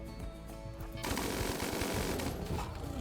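Turret fire in Rimworld, a dense, loud stream of rapid mechanical shots starting after about a second and continuing steadily to the end over a busy game mix.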